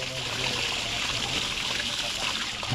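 Water gushes steadily from the pipe of a 2 horsepower submersible pump into a swimming pool, a dense, continuous rushing splash heard up close, with a voice speaking faintly beneath it.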